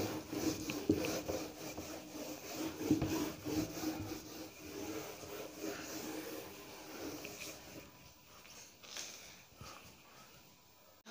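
Duster or cloth rubbing out chalk writing on a classroom board during a physics lesson, a steady scratchy back-and-forth scrubbing that comes in repeated strokes over several seconds, fairly close, with no talk.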